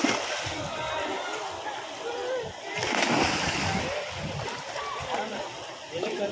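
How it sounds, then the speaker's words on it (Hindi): Children splash and paddle in swimming pool water during a lesson, with sloshing and scattered splashes continuing under shouted instructions from adults nearby. "हाथ असा कर आणि जंप कर ब्रजराज"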